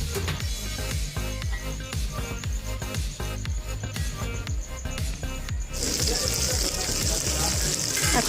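Chopped tomatoes hit ginger-garlic masala frying in a pan, and a steady crackling sizzle swells noticeably louder partway through, heard beneath a person speaking.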